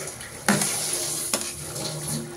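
Black peas for usal masala sizzle steadily in hot oil, with a stirring spoon scraping the pan a few times and a constant frying hiss close by.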